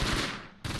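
Close, dense machine-gun fire in the World War II strategy game Close Combat: Gateway to Caen, a loud continuous burst that dips briefly and then resumes.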